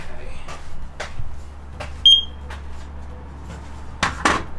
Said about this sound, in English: that smoke had drifted over to the van and turned on our smoke detector